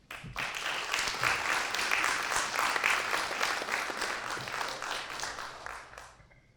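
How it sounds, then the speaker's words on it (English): An audience at a renewable energy talk applauds the event's sponsors with a burst of many people clapping, swelling quickly, holding steady for several seconds, then fading out. "A big applause to them"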